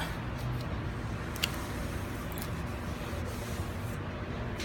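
Brake cleaner sprayed onto the brake parts of a 2013 Hyundai Genesis R Spec, a steady hissing spray held for several seconds, fairly faint against the garage background.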